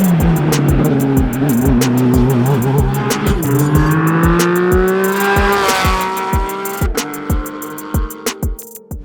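Race cars at the Pikes Peak International Hill Climb, a loud close engine revving and shifting through rising and falling pitches, with tire squeal and a rapid chattering rhythm, fading slightly toward the end.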